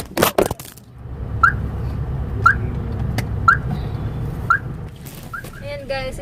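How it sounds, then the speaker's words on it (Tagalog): A car alarm sounds outdoors on Christmas Eve, repeating its chirping tone at a steady pace of roughly one per second over a low rumble, with a brief burst of noise at the start and a rising whoop pattern at the end. "Diyan lang ingay ng kotse."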